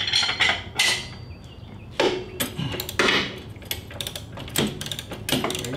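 A wrench on a Harley touring bike breaks loose the torqued rear-axle cone nut, with sharp metallic clanks and knocks in irregular bursts, close and fairly loud, with no talk.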